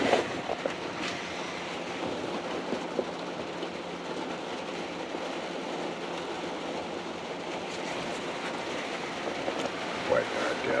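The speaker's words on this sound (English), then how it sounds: "It's raining." Hard rain falls steadily on a camper van parked overnight at a roadside spot in Vermont's Green Mountain National Forest, a dense, continuous patter close by with a few louder drops, heard on its own.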